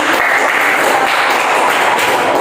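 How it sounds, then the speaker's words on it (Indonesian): An audience in a classroom geography lesson applauds in a dense, continuous wash of clapping, close and loud throughout with no pauses. "Tepuk tangan untuk kakak"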